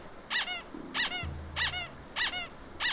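A dog-bark sound alert on a Twitch stream gives four evenly spaced, sharp yelps about every half second, loud and clear over a low steady background hum.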